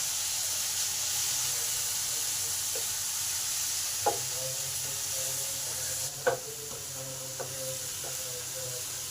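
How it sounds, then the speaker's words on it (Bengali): Chopped and ground tomato with spices being sautéed in a pan for a soya chunk curry, a steady frying sizzle with a few occasional light clinks of the spoon stirring against the pan, no talk. "এবার সব কিছুকে একটু ভালো করে কষে নেব।"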